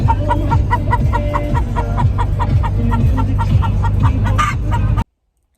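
Lavender Orpington laying hens cluck steadily inside a cage, a close, busy run of repeated clucks from several birds over a low rumbling background, ending abruptly.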